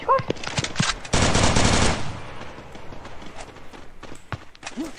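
Rapid automatic gunfire bursts in the video game Free Fire, a loud sustained volley in the middle flanked by scattered single shots, with game effects around it.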